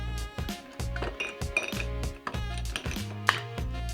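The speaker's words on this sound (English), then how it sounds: "now you're just gonna add your ice and you're gonna stir it" Ice is stirred in a glass for an Old Fashioned cocktail, making a series of bright clinks and rattles against the glass. Background music plays throughout.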